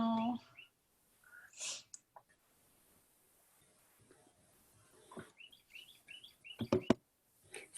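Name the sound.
birds singing in the background by a window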